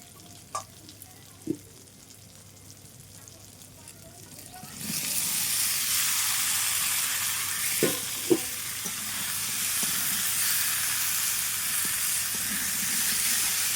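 Potatoes and jackfruit dropped into spiced oil in a pan: a few quiet clinks first, then a sudden loud, steady frying sizzle takes over and keeps going, with occasional stirring knocks beneath it.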